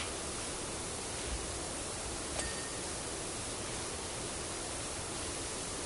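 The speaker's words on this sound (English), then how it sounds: "Even the sound of the water hitting the door. Sounds like a waterfall almost." A pressure washer's water jet striking a door in PowerWash Simulator makes a steady, full-band rushing spray like a waterfall, constant and unbroken throughout with no voices.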